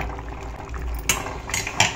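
A metal lid is set onto a cooking pot of goat head curry, a couple of light clinks and taps near the end over a quiet low background.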